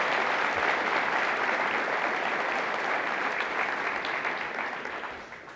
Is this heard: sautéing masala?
no